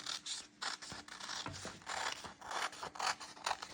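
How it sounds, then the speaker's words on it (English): Scissors snipping through folded paper along a curved pumpkin outline, a close series of quick crisp cuts and scraping blade strokes in an uneven rhythm, with nothing else heard. "So I'm going to cut this right on this line on the fold."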